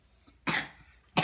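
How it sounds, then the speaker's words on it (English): Two sharp coughs, the first a longer rasping burst and the second short and abrupt, separated by a near-silent pause. "Make sure you cough all the time."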